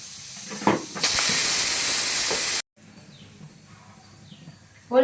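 A pressure cooker vents steam in a loud, steady, close hiss lasting about a second and a half, then cuts off abruptly into a quiet kitchen.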